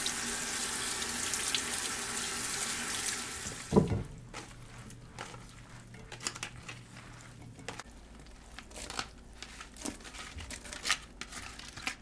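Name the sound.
tap water rinsing cabbage for kimchi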